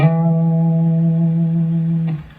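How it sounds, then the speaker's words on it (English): An effects-laden electric guitar sustains a note after a quick attack, with a hammer-on, pull-off and slide blending into one ringing tone before a brief shift near the end. "So what about if I do a hammer, a pull, and then a slide?"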